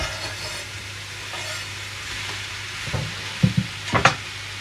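Mushrooms sizzle softly in a pan, a low steady hiss joined near the end by a few sharper scraping and clattering knocks as they are stirred, no speech.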